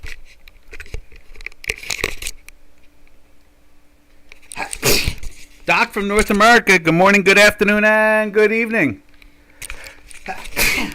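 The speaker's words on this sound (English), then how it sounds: "2 sneezes." Two sneezes burst out close to the microphone, with a person speaking before and after them.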